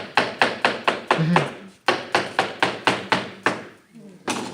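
A knife slices a watermelon on a cutting board in rapid rhythmic chops, about a dozen crisp thuds in two quick runs separated by a brief pause.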